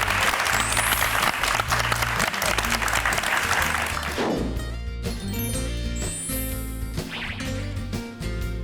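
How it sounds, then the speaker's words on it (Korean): Audience applause at a Korean talk show event honoring actress Ha Hee-ra, loud sustained clapping mixed with bright music and heavy thumping beats, with a sweeping whoosh partway through. "박수 한번 보내드릴까요?"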